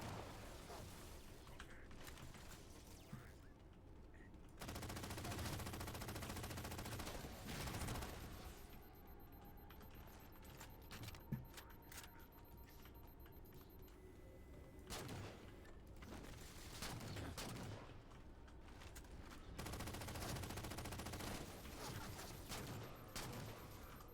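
Sustained gunfire from Halo 4 combat, dense rapid bursts and volleys rattling across the whole stretch, loud and layered, with occasional heavier impacts and no talking over it.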